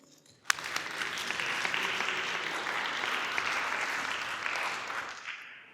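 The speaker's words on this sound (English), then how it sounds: "An applause for him." Sustained audience applause fills a lecture hall after a speaker's introduction, starting with a sharp clap and swelling into a steady roar of many hands before fading out near the end.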